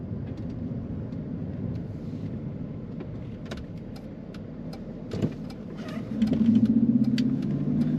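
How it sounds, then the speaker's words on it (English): A 2008 Jaguar XJ Super cruising with a steady low engine and road rumble heard from inside, a brief knock near the end, then a louder rising engine note as it accelerates. "Today we are driving a 2008 Jaguar."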